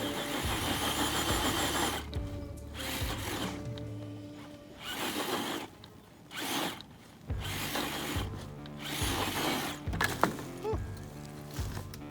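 A Traxxas TRX4 2021 Bronco RC truck spins its wheels on lichen-covered rocks, a motor whine in repeated bursts, each revving up and cutting off, separated by brief quiet gaps.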